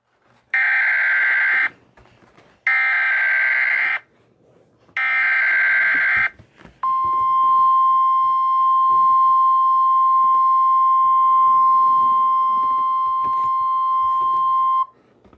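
Mock Emergency Alert System alert: three loud, identical electronic data bursts with short gaps, then a long, steady, piercing attention tone that holds unbroken for several seconds, alone and close.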